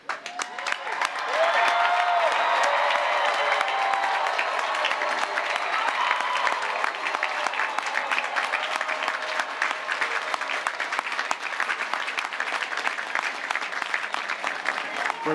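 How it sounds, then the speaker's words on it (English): A graduating university class at a commencement ceremony applauds and cheers, a dense, loud wash of clapping from a large crowd that swells quickly and holds steady throughout. "we need the great class of 2025 to stand as a body, and we need to cheer very, very loudly"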